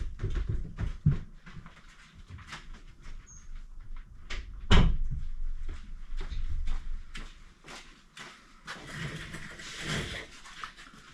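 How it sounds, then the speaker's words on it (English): A door is shut in a home workshop, giving one sharp, close knock-like thud in the middle, surrounded by softer clatters and shuffling handling noises. "let me shut the door."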